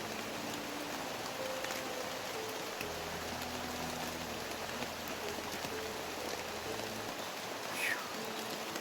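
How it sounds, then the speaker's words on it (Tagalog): Heavy rain pours steadily on leaves in an outdoor setting, a dense continuous hiss with a low rumble beneath that drops away near the end, and no voices. "ang lakas talaga ng ulan"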